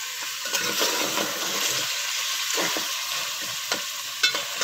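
Beef trotters sautéed in a pot give a continuous loud sizzle, with occasional scrapes and knocks as a spoon stirs them, heard close up and alone.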